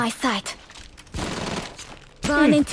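Rapid bursts of gunfire from a mobile tactical shooter game fill about a second in the middle, with players talking just before and after the shooting.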